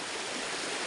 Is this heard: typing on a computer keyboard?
no